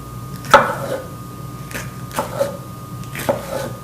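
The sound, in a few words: knife slicing onions and pepper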